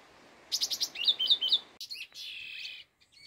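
A wild rufous-tailed laughingthrush sings nearby in a quiet outdoor spot, giving a quick run of clear, high whistled notes followed by a longer warbling phrase, then silence.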